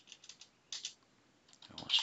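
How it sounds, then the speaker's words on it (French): Quiet, close clicks of a computer keyboard being typed on in short bursts of a few keystrokes, separated by brief pauses. "On va taper neurosciences"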